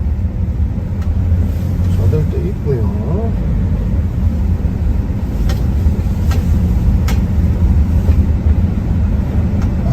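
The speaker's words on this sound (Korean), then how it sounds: "차들이 있네요" Cars pass along a road, making a continuous low rumble that stays loud and even throughout, with faint voices in the background.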